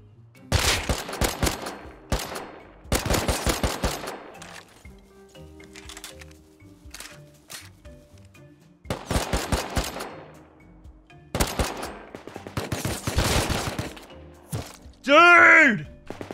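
Gunfire in the survival video game Rust, bursts of rapid automatic shots fired in several volleys with short gaps between them, loud and close.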